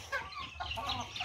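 Backyard chickens cluck briefly and softly nearby, a few quick, faint calls on a quiet morning.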